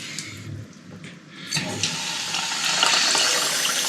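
Bath water filling for washing a scalp after a hair transplant, starting as quiet trickles and swelling after a couple of seconds into a loud, steady, close rush of water with no talk.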